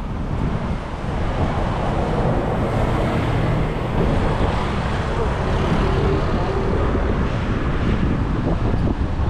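Strong wind buffets the microphone in a constant loud roar, with low rumbling gusts filling the whole stretch and faint traffic beneath.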